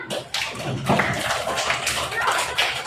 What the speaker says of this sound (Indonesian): Yang sudah selesai beri tepuk tangan.